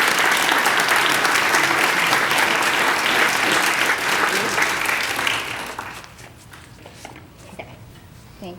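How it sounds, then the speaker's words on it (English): Sustained, loud applause from an audience at an oath of office ceremony honoring Councilmember Kris Wang, steady for several seconds before fading to scattered claps and quiet room noise. "let's give a huge round of applause for Councilmember Kris Wang"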